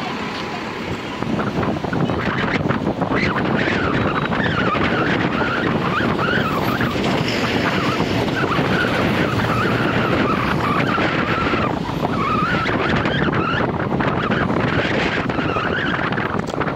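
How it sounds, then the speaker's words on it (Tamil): Heavy road traffic near Pamban Bridge on a Saturday, a continuous loud rush of passing vehicles with heavy wind buffeting the microphone, steady from start to finish. "சாட்டர்டேனால ஹெவி டிராஃபிக்காக இருக்குது"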